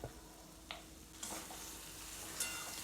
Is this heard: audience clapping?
no